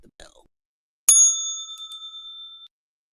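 A single bright bell rings once as a stock market opening bell, striking sharply and ringing on with a clear fading tone after a brief moment of faint talk.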